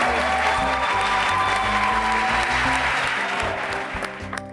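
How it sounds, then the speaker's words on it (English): Audience applause for the schools presenting at a university health-tech innovation challenge, continuous crowd clapping with background music tones underneath, tapering near the end. "A round of applause for all the schools that we're expecting to present today"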